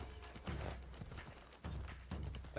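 Horse hooves clip-clop in Assassin's Creed Shadows, a fast galloping rhythm of repeated thuds with a few louder impacts, close and steady with no voices.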